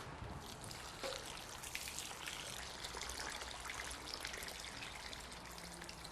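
Water pours steadily onto the soil of a potted rose bush in a soft continuous trickle and splash, faint and close, with no voices.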